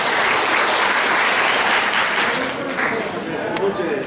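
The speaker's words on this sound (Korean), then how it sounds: "자, 박수로 시작하겠습니다." Audience applause fills a large meeting hall at a city hall roundtable of about a hundred citizens, a dense steady wash of clapping, loud and continuous for a few seconds before easing slightly.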